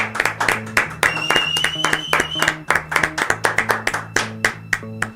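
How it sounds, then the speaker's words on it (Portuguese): A few people clapping in a room, brisk uneven handclaps close by for several seconds, with a voice speaking over them. "Ó, palmas para Carla Zambelli"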